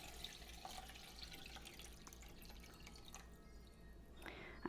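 Liquid poured into corn chowder being made in the microwave, a steady soft trickle and splash that runs throughout, close by and fairly quiet.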